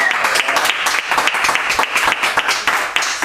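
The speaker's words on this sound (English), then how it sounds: "let's give an extra clap for Vasanti and Craig" An indoor audience at a valedictory gathering claps and applauds continuously, a dense, lively patter of many hands at close to moderate distance, with no speech over it.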